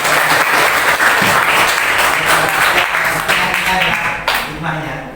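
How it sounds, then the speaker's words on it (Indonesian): Steady, loud applause fills a classroom during a teaching-practice lesson, with dense clapping from a group of students continuing throughout and a few voices mixed in before it thins slightly near the end. "Kita beri tepuk tangan untuk Gatan"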